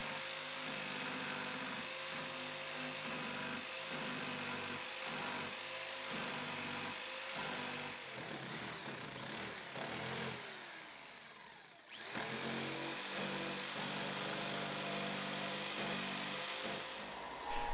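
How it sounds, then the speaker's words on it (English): A saw cuts through maple wood in steady rhythmic strokes, pausing briefly before the cutting resumes. "I can start sawing off the pieces."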